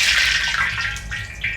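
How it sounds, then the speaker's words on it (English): A sharp hiss and crackle of water flicked into hot oil in a wok, loud and close, sizzling steadily for a moment before fading slightly. "Get some water, flick it."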